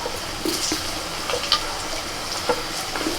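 Potatoes frying in leftover fish oil tempered with black cumin, a soft steady sizzle close by punctuated by light scraping and clinks of a spatula.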